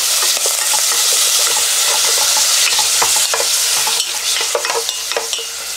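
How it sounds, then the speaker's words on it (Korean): Beef stir-frying in perilla oil in a hot pot: loud, close sizzling with frequent scraping and clattering of a stirring utensil, continuous throughout with no voices. "들기름이나 참기름 한 스푼 넣고 고기를 우선 볶아줍니다"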